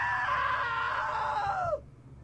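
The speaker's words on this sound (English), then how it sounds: "Now that was a great scream." A prolonged, loud scream in the video game What Remains of Edith Finch, holding steady for nearly two seconds before sliding downward in pitch and cutting off abruptly, leaving quiet behind.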